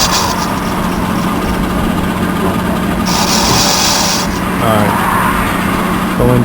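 Metal lathe cutter resurfacing an electric trailer brake drum, a steady loud machine drone with grinding cutting noise that swells briefly midway, close and continuous.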